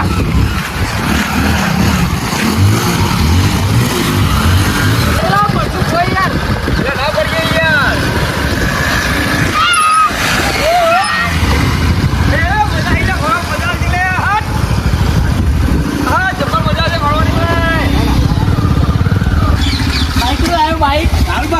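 A motorcycle engine runs loud and close, a constant rumbling drone throughout, while several people talk and banter over it in a comedy scene.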